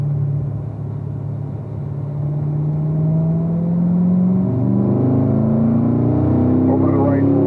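A Corvette race car's engine drones loudly and steadily on a track, its pitch sliding down under light braking as it gears down to third, then holding a sustained rumble while someone talks over it.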